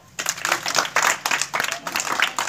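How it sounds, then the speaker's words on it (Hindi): Children at a village magic show clap together in a lively, sustained round of applause close by, with a few voices mixed in. "ताली मार दो बच्चे"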